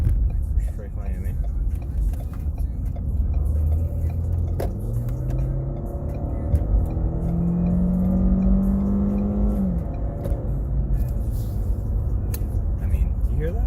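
Small turbocharged 4-cylinder car engine revving while driving, a rising droning pitch that climbs through gears and falls off, steady and fairly close, with someone talking over it.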